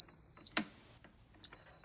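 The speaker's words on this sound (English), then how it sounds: "You want to make sure it makes that beep beep noise." A cash register gives a sustained high electronic beep that cuts off, followed by a sharp button click and quiet, then the steady beep tone resumes.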